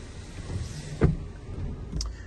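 A Mazda CX-30 2.0 Skyactiv-X mild-hybrid sunroof slides shut inside the cabin, ending in a single soft thump followed by a brief faint click against quiet interior noise.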